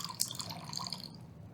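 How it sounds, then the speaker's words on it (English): Water trickles and drips during tea making, a light liquid patter with faint tonal ringing, close and quiet, ending abruptly after about a second, with no voices. "listening to the trickling down of the water"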